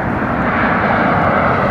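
Airliner passing near Heathrow airport, a loud, close, continuous broadband jet roar that holds steady throughout.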